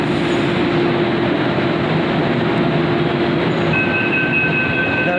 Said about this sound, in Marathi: ही अशी मेट्रो आहे.